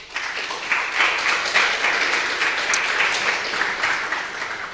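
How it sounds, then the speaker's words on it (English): Warm audience applause welcomes a presenter at a talk, a dense steady clapping that swells after the first moment and holds evenly to the end. "So please give a warm round of applause for Dr. Ko."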